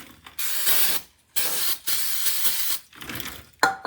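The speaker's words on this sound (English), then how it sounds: "I hit it with some brake clean just because we got a little bit of grease on the actual" Brake cleaner sprayed onto the greasy brake surface of a 1994 Chevrolet 2500 Suburban during a front wheel bearing job, heard as three long close hissing bursts separated by short pauses, with a small mechanical click at the end.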